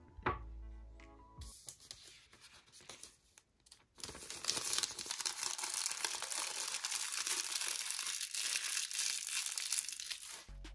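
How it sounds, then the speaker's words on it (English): The paper packaging of an Apple MagSafe silicone case is unwrapped and torn up close, a run of crinkling, ripping and crumpling noises that starts in short bursts and then goes on steadily, with no talking. "now for everyone's favorite part of an unboxing, well, it's the sound the paper makes."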